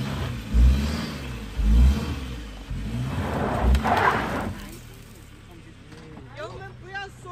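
A Subaru car climbs a slope with its engine revving hard in low, rumbling surges, loud and close, while someone speaks over it; the engine eases off toward the end as talking continues.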